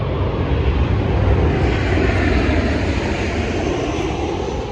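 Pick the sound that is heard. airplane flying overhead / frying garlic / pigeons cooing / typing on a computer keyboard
airplane flying overhead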